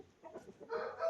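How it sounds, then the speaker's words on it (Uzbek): Soft, high chirping of a young chick, faint and close, with a brief peeping call near the end. "shu jo'ja"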